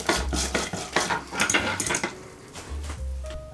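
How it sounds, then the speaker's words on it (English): Sticky rice flour and water being whisked together in a pot, a brisk scraping stir with light metallic clinks against the pot, close and steady with no talk. "Whisk everything together."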